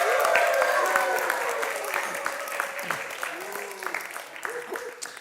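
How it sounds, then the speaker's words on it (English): Clapping from an audience after a puppet show fades gradually while a voice talks over it, the applause thinning out toward the end. "can I hear a huge round of applause"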